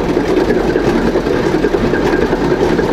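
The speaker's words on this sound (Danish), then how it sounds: "Det er så en Grenaa diesel her, der larmer lidt." A Grenaa diesel engine runs at an engine rally in Denmark, a loud, close, steady low rumble with continuous mechanical clatter and no speech.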